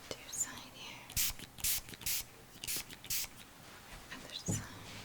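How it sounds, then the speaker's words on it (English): A spray bottle misting around a person in a quiet room, several short sharp hissing spritzes in an uneven series, close to the microphone, with soft whispering between them. "So I'm just going to spray this all around you."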